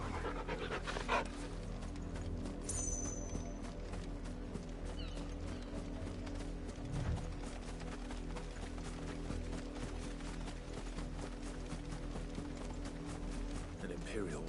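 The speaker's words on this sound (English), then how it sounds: "What a fine hound." A dog pants in rapid rhythmic breaths in the video game Final Fantasy XVI, under a steady droning game score, with a faint mechanical click and hoof-like clatter at moments.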